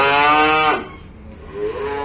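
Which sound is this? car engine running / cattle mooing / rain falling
cattle mooing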